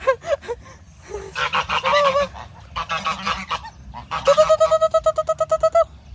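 Several geese honk loudly nearby in Brazil, calling in bursts and then a rapid run of repeated honks.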